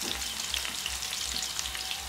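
Chopped onion hits hot oil in a pan while cooking chicken do pyaza, giving a dense, close, continuous sizzle with faint stirring scrapes throughout and no talking.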